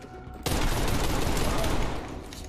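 Sustained automatic gunfire from a full magazine being emptied in Call of Duty Black Ops Cold War, a loud dense burst starting abruptly and continuing for about two seconds before tapering.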